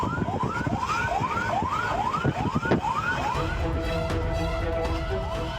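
A fire engine speeds along the Cisumdawu toll road in Sumedang, West Java, its siren close and loud in a fast, repeating rising yelp that settles into a steadier wail near the end.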